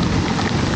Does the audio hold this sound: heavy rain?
yes